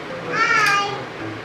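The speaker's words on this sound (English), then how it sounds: "as you can hear the kids in the background" Young children babble and chatter in the background of a home kitchen, a mid-distance, continuous murmur of small voices with a brief higher cry near the middle.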